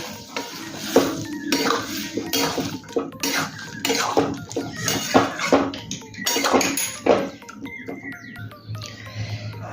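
A spoon clinks and scrapes repeatedly against a pan while boiled peas are stirred into spiced potato for Bengali ghugni, irregular metallic knocks with a soft wet churning underneath.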